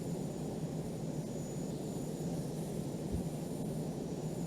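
Steady, dense jet roar of a MiG-25/31 engine pushing toward top speed in the Falcon 4 Allied Force flight sim, a constant broadband rumble with no breaks and no talking.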